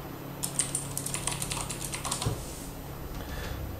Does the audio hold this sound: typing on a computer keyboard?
yes